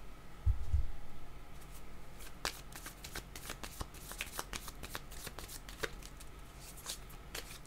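Cards are shuffled for a card reading, a soft close-up run of quick flicks and riffles, opening with a couple of low thumps and then continuing as a steady patter.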